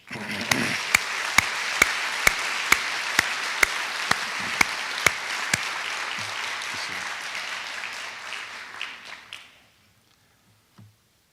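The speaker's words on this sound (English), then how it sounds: "A round of applause for all of them." Audience applause fills a graduation ceremony at a school of dental medicine, a dense, steady wash of clapping punctuated by sharp regular claps, then fading out and ending in near silence.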